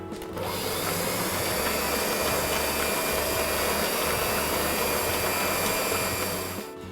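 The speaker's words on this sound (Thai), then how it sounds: "หลังจากที่เราตีน้ำตาลไอซิ่งนะคะกับเนยเรียบร้อยแล้วค่ะ" An electric mixer beats icing sugar with butter for a Christmas layer cake, giving a steady loud motor whir that runs unbroken for several seconds before cutting off, with no talking.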